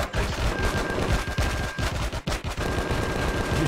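Rapid, continuous gunfire from a spaceship's front-mounted rotary gun in a video game, loud and dense throughout with brief gaps, dominating the scene.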